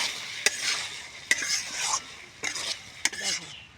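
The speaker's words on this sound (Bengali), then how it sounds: "মাছটা একটু দু একবার নাড়বো চাড়বো, দিয়ে নামিয়ে দেবো।" A spatula scrapes through small bele fish frying with fenugreek in a pan, four sharp scraping strokes over a soft continuous sizzle.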